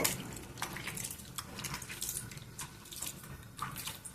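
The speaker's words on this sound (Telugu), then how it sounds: "ఇట్లా బాగా కడుక్కోండి." Bitter gourds are washed under running tap water in a kitchen sink, giving a steady, close splashing and trickling with irregular spatters throughout.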